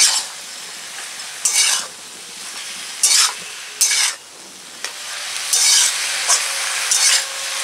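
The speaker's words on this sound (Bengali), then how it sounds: "এবার ঢাকাটা খুলে নাড়ব।" A spoon stirs sautéed leafy greens (saag) in a pan just after the lid comes off: a soft continuous sizzle broken by several sharp scraping strokes of the spoon against the pan, close and unhurried, with no talk.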